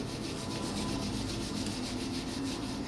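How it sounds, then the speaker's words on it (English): Two palms rub together briskly in a steady, rhythmic back-and-forth swish, close and moderately soft, with no voices over it. "So take your hands and rub your palms together."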